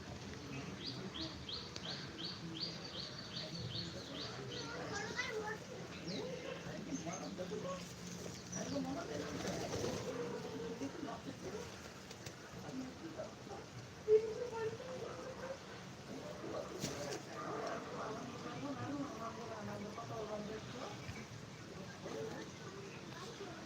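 Pigeons coo softly at a distance, with faint chirps and twittering from other birds scattered over a low outdoor background.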